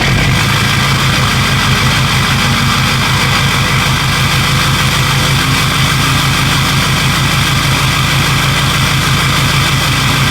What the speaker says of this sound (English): it's probably not going to sound super cool when it starts in the beginning, just because the truck is cold